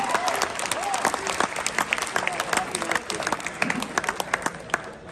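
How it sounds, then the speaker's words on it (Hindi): A mushaira poetry crowd in Dubai breaks into loud, dense applause, with sharp claps and a few voices or cheers rising above the steady clapping throughout. "आपका मोहब्बत से सुनना, अपने लिए भरपूर तालियां बजा लीजिए।"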